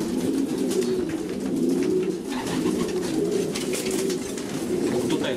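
Racing pigeons coo in a pigeon loft, a continuous layered murmur of low throaty calls from several birds close by.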